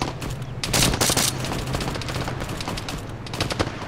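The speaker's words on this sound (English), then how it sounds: "Point the gun to the right, start firing." Rapid bursts of gunfire from a mounted gun in a military combat video game, dense crackling rounds with a heavier blast early on, loud and close over a busy background.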